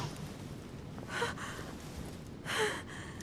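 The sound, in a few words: woman's breathing in the video game The Council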